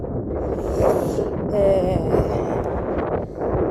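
Wind buffets the microphone in a steady, rushing roar that swells and eases, with a faint whistling tone partway through.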